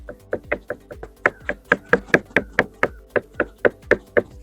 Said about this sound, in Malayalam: ആദ്യം തന്നെ തക്കാളിനെ ചെറുതാക്കി അരിയണം.